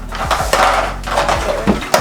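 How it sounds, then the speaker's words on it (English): A nursery pot is set down on top of another pot during winter repotting of a philodendron, giving several loud, close knocks and scraping clatters spread over about two seconds, with no speech. "I'm getting this pot we got from a nursery, putting it on top of it like this"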